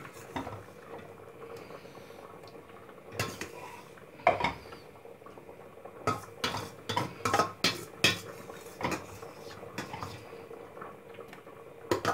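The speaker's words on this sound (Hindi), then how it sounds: "हम इसको पतीले में निकाल लेते हैं" Cooked spinach-and-mutton food is scooped and tipped into a metal cooking pot, with a steady run of clanking and scraping of spoon and utensils against the pots, several sharp knocks clustering near the end, close and moderately loud with no talk.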